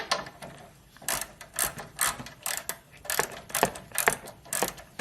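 Ratchet driving a 10mm bolt while replacing a 2012 Honda Civic A/C compressor, a sharp rapid clicking in repeated short bursts with brief pauses, close and alone.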